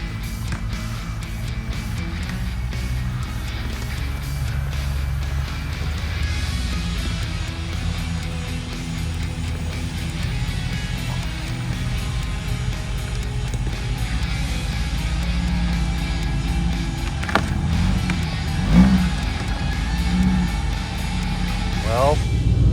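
An off-road vehicle drives along a trail after a broken tie rod left its alignment off, its engine giving a low, steady rumble throughout while people talk over it and a few knocks come late.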